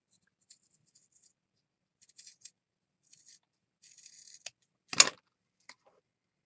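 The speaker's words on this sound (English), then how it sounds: "I'm just going to cut a little heart" Scissors snip a small heart shape out of folded blue fabric, giving a few faint, scattered cuts and rustles, then one louder, sharper snip near the end, all in a quiet room with no talking.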